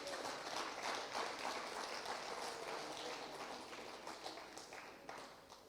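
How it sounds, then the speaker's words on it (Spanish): A congregation claps for Jesus during a Quechua-language church service on divine healing, a faint, distant patter of many hands that holds steady for several seconds and slowly fades, with no speech on top. "Denle un aplauso a Jesús."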